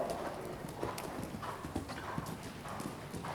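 A very tall, long-legged horse's hooves thud in a steady clip-clop rhythm during a show-jumping lesson, moderately close and continuous through the short stretch with no talk over it.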